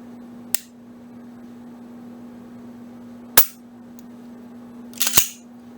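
Three sharp dry-fire clicks from a Glock pistol fitted with a TacticalPontoon Elite aftermarket trigger, spaced apart with the last one doubled, crisp and close against a faint steady hum.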